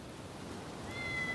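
A cat in the samurai action game Rise of the Ronin gives a short, faint meow late in the moment, set against soft ambient background noise with no talking.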